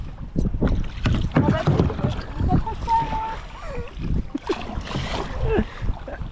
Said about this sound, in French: Voir quelqu'un qui pagaille super vite.